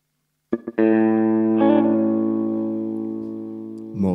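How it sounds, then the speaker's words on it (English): A guitar run through a Boss DM-2 analog delay pedal: a couple of quick plucks, then one loud sustained chord ringing and slowly decaying with echo, followed by a new strum at the end. "I will try to obtain the same sound on the DM2."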